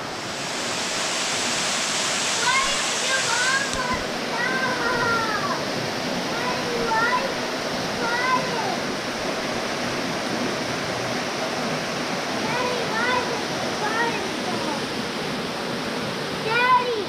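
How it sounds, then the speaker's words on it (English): A waterfall rushes in winter, steady broadband roar from a fairly close source, with occasional squeaky chirps over it. "Well, this is Bork Falls."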